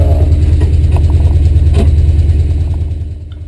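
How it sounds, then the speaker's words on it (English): A Jeep engine revs steadily in snow as it is rocked back and forth to break free, a loud close throbbing drone that holds, then eases off toward the end. "by working the Jeep back and forth a little bit, using the steering wheel, we were able to get it back on the move again"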